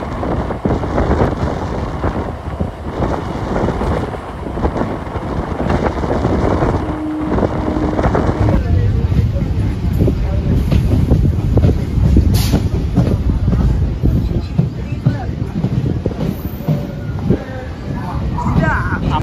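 A local train on the Katwa to Sealdah line, departing Guptipara station, gives a continuous loud rumble with wind buffeting, steady for the whole stretch while a voice talks at times over it.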